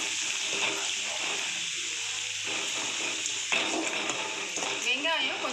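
Chopped onions and curry leaves sauté in a pan with a continuous soft hiss and sizzle, occasional stirring scrapes, while someone talks over the cooking.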